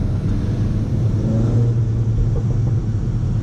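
A 2019 Seat Leon Cupra with the GPF exhaust gives a steady, low exhaust burble and rumble while driving, with only faint hints of crackle and no voices.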